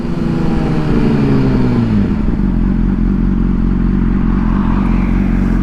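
A 2008 Honda CBR600RR sport motorcycle engine runs loud and close, its revs dropping steadily over the first two seconds before settling into a constant, rumbling idle.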